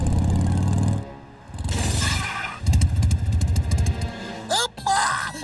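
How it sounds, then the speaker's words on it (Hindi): A cartoon motorcycle engine from Motu Patlu, sputtering and revving in loud bursts mixed with clattering effects, with short pauses and brief whooshing sounds near the end. "वो रही मोटरसाइकिल।"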